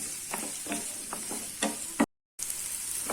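Onions sautéing in a pan with curry leaves, made for a dry anchovy fry, sizzling softly throughout with repeated scraping strokes of a spoon, then a short gap before the frying resumes.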